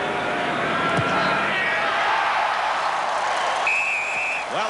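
A rugby stadium crowd at Eden Park in Auckland roars steadily through a 1997 All Blacks versus South Africa test, a dense continuous wall of cheering with a whistle near the end.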